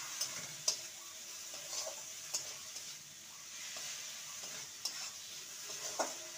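Spice masala and sugar are stirred in an oiled pan, giving a soft, quiet sizzle with periodic spatula scrapes and light clicks against the metal. No voices are heard.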